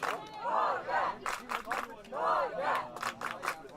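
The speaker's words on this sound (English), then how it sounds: "Germany, I believe, is cheering for Norway." Spectators at a quadball World Cup match between African Nations and Norway shout and cheer in rhythmic, chant-like bursts that rise and fall, fairly close, with scattered voices mixed in.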